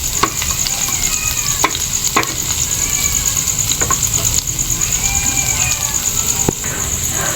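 Aromatics frying in hot oil in a pan for shrimp adobo with oyster mushroom, a constant close sizzle broken by regular stirring scrapes, with a thin high whine running above it.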